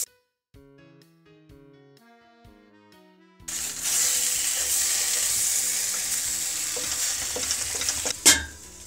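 Potatoes sizzle and crackle in butter in a pan for an eggplant gratin, a bright steady frying hiss that begins after a few seconds of quiet piano-like notes, with a sharper burst near the end.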